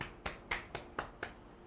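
A handful of sharp hand claps, about six in a quick, steady rhythm, faint and close with no voices over them.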